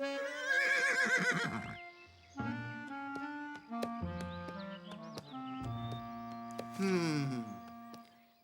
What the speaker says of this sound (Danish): Der er en hest her på verandaen.